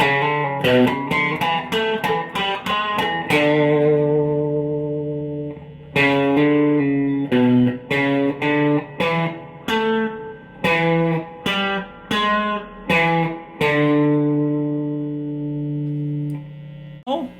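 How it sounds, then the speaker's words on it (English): Electric guitar playing a rhythm part with pinch harmonics, clean-toned choppy chords and squealing harmonic accents in a steady stop-start pattern, loud and close, no talking. "Right, with the pinch harmonics."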